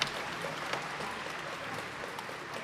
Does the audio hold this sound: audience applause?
yes